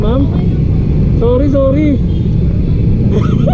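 A runaway diesel engine roars loudly on a city street on Shaw Boulevard in Mandaluyong, a heavy continuous rumble while people talk excitedly over it close by.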